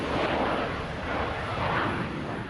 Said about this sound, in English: The plane came in low, passing over a small crowd of onlookers.